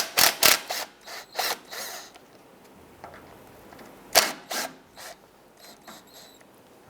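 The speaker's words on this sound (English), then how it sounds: "Remove this cover using 10mm socket." Bolts coming off a cover on a 1997-2006 Jeep Wrangler with a 10mm socket and ratchet, in close, loud bursts of quick ratcheting clicks separated by quiet pauses.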